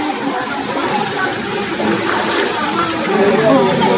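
Water rushes and splashes steadily along a mountain trail to a waterfall, a constant close wash of flowing sound with people talking over it.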